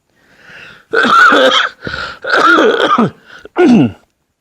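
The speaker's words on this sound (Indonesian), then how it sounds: "saya batuk" A man coughs and clears his throat in a close, loud burst of several harsh hacks and rasps over about three seconds, with no talking.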